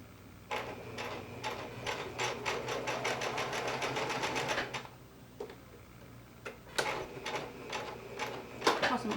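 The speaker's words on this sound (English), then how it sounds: "You want to definitely serge your seam, the edge of your sleeve seam" A serger stitches the sleeve seam of knit fabric in rapid ticking bursts, a run of fast mechanical clicks that pauses, then resumes in shorter spurts, fairly quiet and close.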